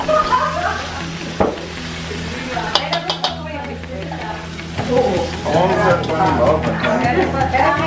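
Salt and pepper shrimp stirred in a hot pan, a close hiss of sizzling under scraping and clinking of a utensil against the metal, while a person talks throughout.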